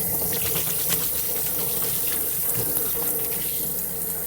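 Hot water from a tankless heater runs slowly through a flow restrictor on a tap into a sink, making a steady, loud, close gushing hiss with no break.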